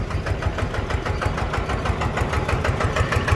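A brand-new single-cylinder engine runs close by with an even, rapid thumping chug, loud and steady throughout.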